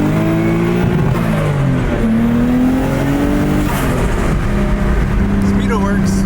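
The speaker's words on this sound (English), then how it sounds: "Let's go for a little drive." A car drives off and accelerates, with steady engine drone and climbing, shifting tones running throughout, loud and close from inside the cabin, with no speech over it.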